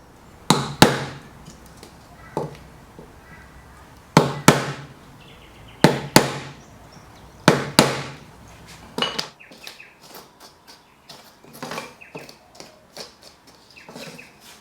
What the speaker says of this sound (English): it shows how I was tapping in with a scrap piece of wood